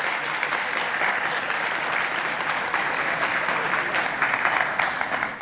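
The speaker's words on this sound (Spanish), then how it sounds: "Bríndele un aplauso a nuestras esposas, a nuestras compañeras" Sustained applause from a church congregation honoring wives and partners, a steady dense clatter of many hands at moderate loudness, continuing evenly without a break.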